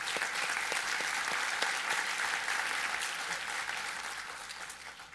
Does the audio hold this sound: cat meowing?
no